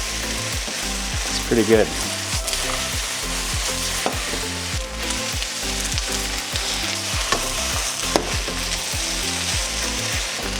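Marinated plant-based protein and onion sizzle loudly in a hot pan for a vegan gyudon, a steady frying hiss broken by rhythmic scrapes and stirs, with a brief spoken comment partway through.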